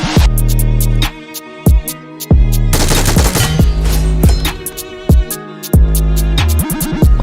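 Loud rapid gunfire from the PUBG Mobile battle royale game, with bursts of automatic shots and single cracks separated by short gaps, dense and close, with no voices.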